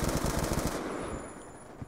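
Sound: machine gun fire in the video game Black Ops 2

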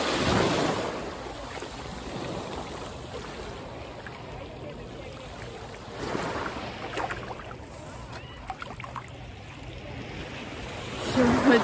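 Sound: sea waves at the shore

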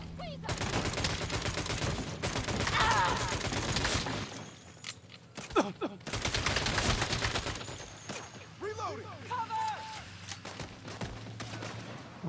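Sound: gunfire shooting in the video game Saints Row

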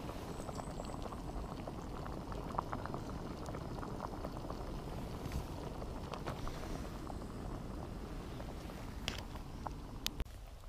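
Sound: Chinese rice boiling in a pot

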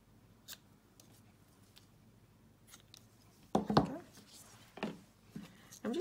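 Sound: ribbon scissors cutting ribbon

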